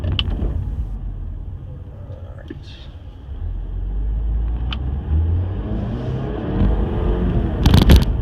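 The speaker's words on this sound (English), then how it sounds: "But that exhaust noise, I do enjoy a lot." Low, steady exhaust rumble from a 2016 Mercedes-Benz CLA 250 Sport Plus heard from inside the cabin while driving, a continuous deep drone with a few small clicks and a brief louder swell near the end.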